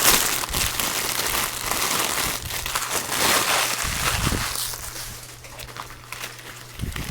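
A Torjim soft box diffuser is unpacked from plastic packaging, producing continuous close crinkling and rustling with a faint low hum underneath and a few louder handling bumps.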